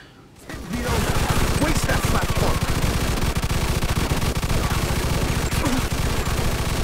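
Sustained automatic gunfire in the video game Mafia II, a loud, rapid machine-gun rattle that starts abruptly and keeps hammering steadily for several seconds.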